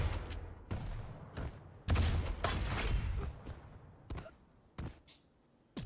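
Railgun shots and other weapon fire in a Quake Pro League match, a series of sharp, loud cracks and blasts spaced irregularly over a few seconds, with one longer burst in the middle.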